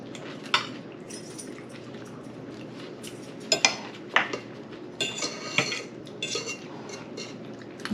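Cutlery scrapes and clinks against plates and bowls at a dinner table while bacon and broccoli salad is eaten, with scattered sharp taps over a steady low room hum and no talk.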